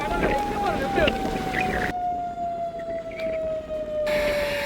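A coastal warning siren on the Mullaitivu shore wails in one long, steady, slightly falling tone as a cyclone whips up the sea, with strong wind buffeting the microphone throughout.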